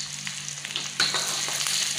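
Chili, garlic and shallots sizzle in a pan of oil over a low flame for fried rice, a steady close crackling hiss with small pops and one sharper burst midway, no voices.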